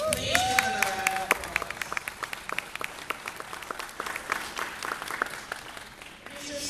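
Scattered audience applause at a lawyers' forum, with individual claps standing out sharply in an uneven, moderately loud round; a voice is briefly heard at the start.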